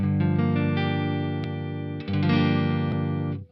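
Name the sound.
JPTRFX Kaleidoscope reverb pedal without speaker saturation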